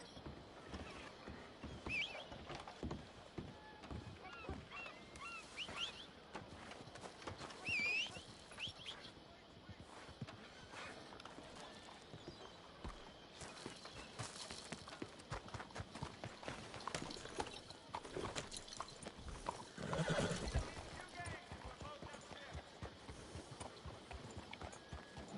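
Horse hooves clop in a steady rhythm in the western video game Red Dead Redemption, faint and continuous, with an occasional whinny and quiet ambient sound, and a voice speaks partway through.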